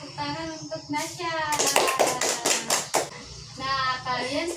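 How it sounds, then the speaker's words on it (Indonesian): Several bursts of children clapping for a classmate in a school art lesson, short and close, set between stretches of a teacher's speech. "tepuk tangan untuk Nasya"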